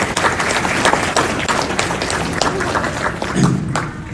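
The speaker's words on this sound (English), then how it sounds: "A big round of applause for them." Audience applause at a US–Nepal relations 75th anniversary celebration, sustained dense clapping from a crowd over four seconds, with a few thumps and faint voices underneath.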